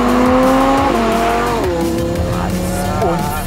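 A car accelerating hard in sport mode, its engine loud and close as it drops two gears and climbs in pitch over a few seconds, with a strained, high-revving tone throughout.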